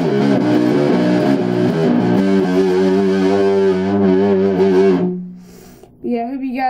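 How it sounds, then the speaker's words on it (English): A matte black LTD M-17 seven-string electric guitar plays thick distorted chords that ring loudly, then fade out, followed by a few more short distorted notes. "Here's some more distortion."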